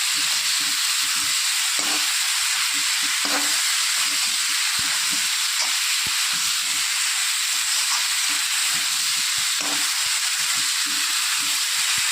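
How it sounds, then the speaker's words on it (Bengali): Flat beans and potato pieces fry in oil with salt and turmeric, making a loud, continuous hissing sizzle throughout, broken by occasional soft stirring knocks, with no talk. "সিম আলুটা একটু লাল লাল করে ভাজা হয়ে গেলে"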